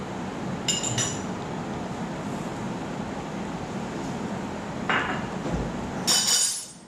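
A metal spoon gives a few light clinks against a container while Turkish coffee powder is measured out, with bright taps near the start, another around five seconds and a louder cluster at the end over steady room hiss.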